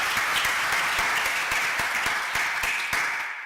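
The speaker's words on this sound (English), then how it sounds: "I actually would like to do another round of gratitude applause for all those who took the time to submit a paper" Dense, steady applause from a conference audience fills the room, many hands clapping together at close range for the full stretch before easing off slightly at the end.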